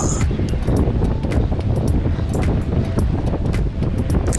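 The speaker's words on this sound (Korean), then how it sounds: "높은 파도에 바다가 뒤집혔습니다" High waves churn a rough sea during a shoreline fishing outing, with a steady, loud roar of surf and heavy wind buffeting the microphone throughout.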